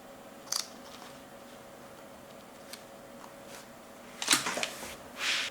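Scissors snip excess thread during home sneaker making, giving a few close, crisp cuts with quiet handling noise between them and a brief rustle near the end.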